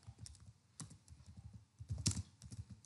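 Rapid typing on a computer keyboard, close and fairly quiet, with irregular clusters of key clicks and a few firmer strikes, no voices.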